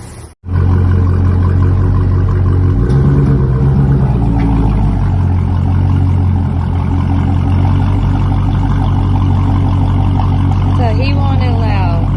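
A Dodge Charger Scat Pack fitted with a loud MBRP street catback exhaust starts up with a sharp bark, then settles into a deep, rumbling idle with a brief rev, close and loud, with faint voices late on.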